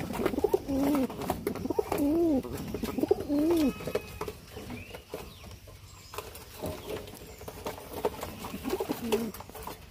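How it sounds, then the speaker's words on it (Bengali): Jalali pigeons coo in repeated soft, rolling bursts for the first few seconds, then quieter calls return near the end over low background noise. "এদিকে পাশে রয়েছে কিছু কবুতর।"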